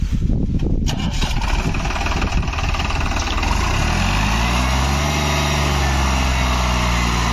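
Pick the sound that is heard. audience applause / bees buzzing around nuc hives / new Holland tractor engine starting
new Holland tractor engine starting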